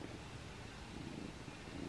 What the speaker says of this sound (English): See, look how fast he purrs.